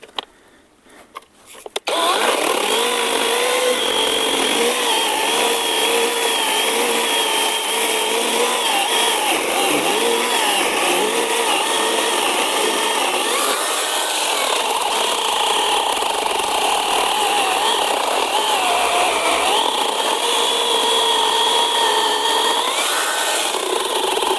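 An ABS Professional 21V cordless chainsaw powered by a 12Ah battery backpack cuts through wood with a steady, loud whining buzz that holds unbroken for over twenty seconds after a brief quiet start.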